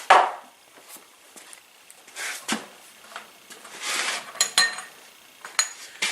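Metal grease cap cup being unscrewed and handled on a 1920 International Type M engine: scattered light metallic clinks, scrapes and taps, close and sparse, with quiet gaps between.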